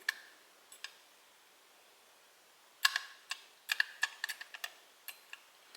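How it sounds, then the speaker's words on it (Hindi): A failing WD hard disk gives off sharp, irregular clicks in short clusters, faint and close against near silence, with a quiet gap before a busier burst of ticks. "ये देखो मेरी हार्ड डिस्क कैसी आवाज़ कर रही थी, ऐसे क्लिक क्लिक।"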